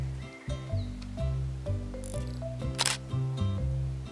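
A camera shutter clicks once during a children's cartoon farm walk with a rooster nearby, a sharp bright burst standing out over steady background music.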